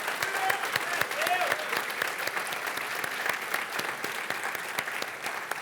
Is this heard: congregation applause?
yes